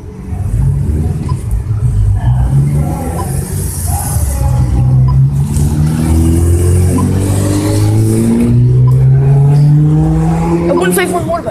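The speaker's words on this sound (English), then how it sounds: "That's a Honda Civic, yeah. They're newer Honda Civics." A newer Honda Civic rally car passes on a stage, its engine note rising in steady pitch sweeps as it revs hard and goes by, loud and close with constant engine noise throughout.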